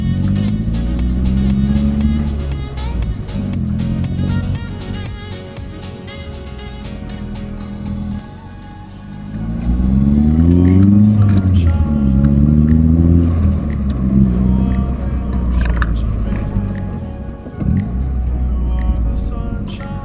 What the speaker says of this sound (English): Motor feels strong aside from all the valve train noise.